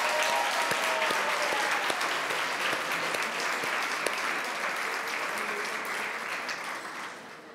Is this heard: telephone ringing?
no